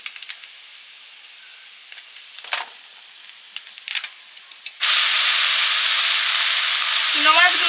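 Small chuno fish being fried in oil for chorchori: a few quiet clinks and scrapes of kitchen handling, then a sudden loud, close sizzle as the fish hit the oil, hissing steadily to the end.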